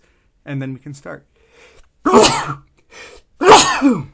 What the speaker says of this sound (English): I'm going to have a quick sneeze